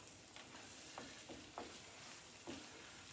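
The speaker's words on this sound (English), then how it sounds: "Get the hot egg on the hot pot." An egg frying in a hot pan for a bologna, egg and cheese sandwich, a soft steady sizzle with a few light scrapes and taps from the cookware, close and quiet, with no talking.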